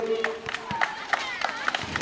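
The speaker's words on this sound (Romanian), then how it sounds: "Și aplauze" Scattered clapping from a small crowd at a children's award ceremony for a basketball cup, faint and uneven, mixed with children's shouts and chatter.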